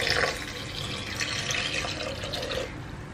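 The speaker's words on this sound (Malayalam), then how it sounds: "ഇതിലോട്ട് നമുക്ക് വെള്ളം ചേർത്ത് കൊടുക്കാം കേട്ടോ." Water is poured into a pot of Kerala prawn sambar, making a steady splashing rush that runs for a few seconds at moderate loudness, with no speech.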